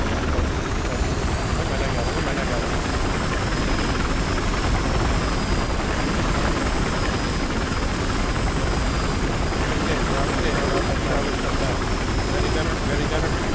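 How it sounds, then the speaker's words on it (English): A helicopter in the video game Battlefield Hardline gives a constant loud rotor and engine roar with a thin high whine, steady throughout and filling the foreground. "Okay, I got a chopper."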